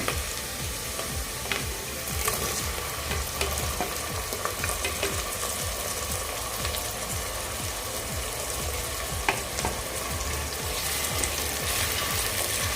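Onion sautéing in a hot pan for soya chunks biryani, a dense continuous sizzle and crackle with occasional stirring clicks, close and fairly loud, no voices.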